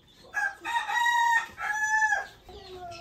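A domestic hen gives a run of loud, close clucks and drawn-out squawking calls, one after another, with short gaps between them and no talk.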